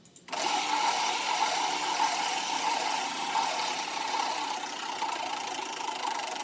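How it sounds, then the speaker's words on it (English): An engine catches and settles into a steady, loud running drone that holds evenly with no break and no voices over it. "Let me start up the engine."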